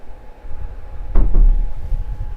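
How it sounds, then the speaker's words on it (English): A nearby door closes indoors at home. There is one loud thud with a short rattle partway through, and a quiet room before and after. "close the door"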